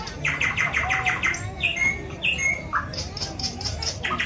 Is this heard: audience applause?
no